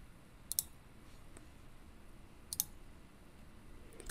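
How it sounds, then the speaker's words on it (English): Computer mouse clicks while someone works through files on a PC, coming as two distinct, faint paired clicks about two seconds apart, close up against a quiet background. "I hold down the shift and right mouse click on the first file"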